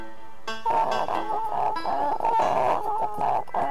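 Chickens cluck and chatter close by, several birds calling over one another in a busy, continuous stream after a brief quiet start.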